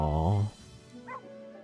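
A puppy in the video game Metaphor: ReFantazio whimpers and yelps in a short, high, loud burst, then falls to faint low murmurs.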